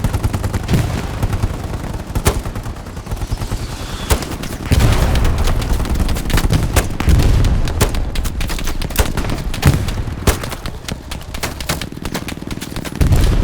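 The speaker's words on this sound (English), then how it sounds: "Starting to take a bit of return fire here." Machine gun fire in the Hell Let Loose video game: dense bursts of loud, sharp gunshots and rapid volleys, with booming impacts mixed into the battlefield din.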